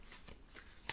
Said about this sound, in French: Je mets toutes les cartes